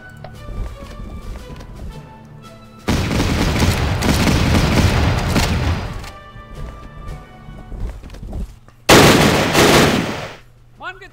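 Bursts of gunfire in the World War Two strategy game Battle Academy, a sustained volley for about three seconds and a sharp loud burst later, separated by quieter stretches of background game sound.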